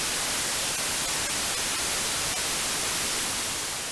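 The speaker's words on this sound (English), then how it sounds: "white noise is a very specific type of noise where each frequency interval has the same energy level as any other one with the same range" Steady broadband white noise with equal energy across all frequencies, a continuous loud hiss holding at one level throughout with no pauses and no voices.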